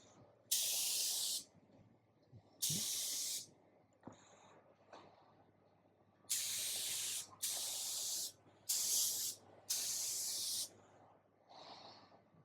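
A spray gun applies SPP coating onto a chrome surface. Six loud bursts of hissing spray of about a second each, with short quiet gaps between them, and faint movement sounds in the pauses.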